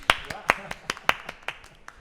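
Scattered handclaps from a small group at a university convocation, sharp and fairly close, coming in an uneven patter of about ten claps over two seconds.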